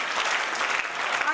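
A church assembly claps in praise, a brisk, continuous patter of many hands at moderate volume, with possible faint voices mixed into the clapping.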